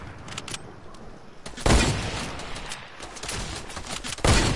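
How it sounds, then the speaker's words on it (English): Drum gun gunfire in a Fortnite Creative match, dense bursts of rapid shots with loud blasts near the start and end, heard without talk. "You're spamming with a drum gun, you little bot!"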